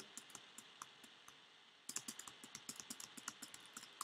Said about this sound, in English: I'm sorry that you can hear my keyboard.